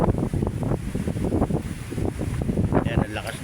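Strong wind buffets the microphone in a steady, heavy roar at Manila Bay, with what sounds like water and surf underneath.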